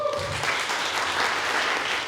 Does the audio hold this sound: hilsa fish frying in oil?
no